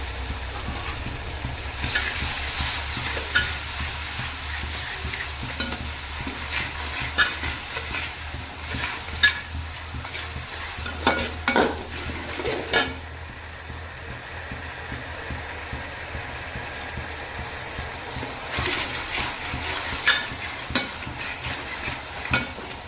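Ginger garlic paste sautéing with browned onions in a pan for turkey biryani, giving a steady low sizzle with occasional scraping stirs over a constant background hum and no talking.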